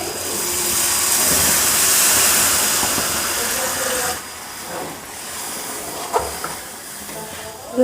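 Water poured into a pan of browned, sautéed chicken for an aloo chicken curry sets off a loud, steady sizzling hiss that lasts about four seconds, then drops to quieter bubbling with a few faint clinks.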